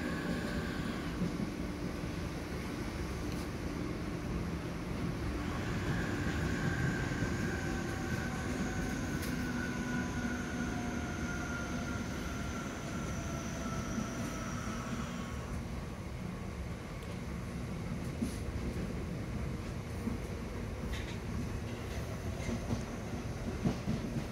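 A Southeastern passenger train running between stations in south London, a steady loud interior rumble of wheels and motors with faint rail clatter and gently shifting tones throughout, no voices.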